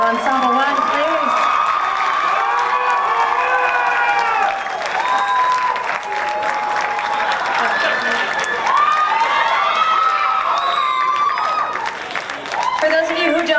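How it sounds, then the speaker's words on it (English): An audience applauds a school jazz ensemble, sustained clapping and some cheering filling the room at a steady level, with a few voices calling out over it. "Give another round of applause for Jazz Ensemble 1, please."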